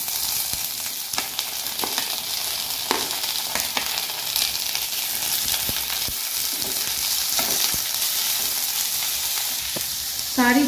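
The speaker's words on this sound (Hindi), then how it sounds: "और अब मैं इसको थोड़े से ऑयल में फ्राई कर लूंगी।" Onion, tomato, cashews, garlic and ginger frying in a little oil for malai kofta gravy, a loud constant sizzle with intermittent clacks of a spatula stirring the pan.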